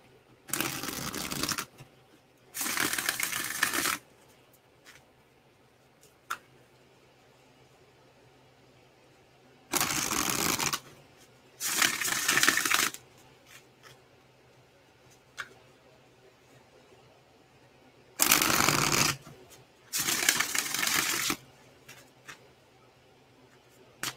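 Tarot cards being riffle-shuffled in six loud bursts, paired two at a time with quiet pauses between, close up and with no talking.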